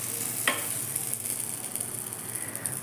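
Potato batter fries in oil in a pan for a quick Marathi breakfast made from raw potatoes: a steady, close sizzle with one brief clink near the start.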